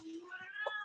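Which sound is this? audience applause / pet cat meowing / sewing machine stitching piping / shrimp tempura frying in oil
pet cat meowing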